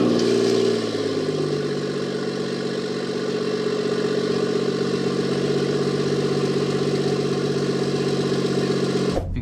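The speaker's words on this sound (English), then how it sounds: "let's go ahead and give you guys a little cold start" A BMW 440i idles after a cold start: a brief higher rev at the outset settles into a steady, even engine drone that holds for several seconds before cutting off abruptly.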